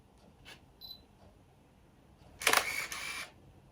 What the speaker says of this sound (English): I'll stop blathering on and fire the shutters